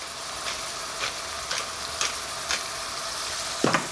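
Onions soften in a frying pan with a steady close sizzle, stirred in a regular rhythm of soft scrapes about every half second, ending with a louder clank.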